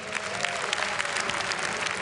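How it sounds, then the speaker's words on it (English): Crowd applause for two Counter-Strike players at an esports grand final, a dense, even wash of clapping from a large audience filling the moment. "Round of applause"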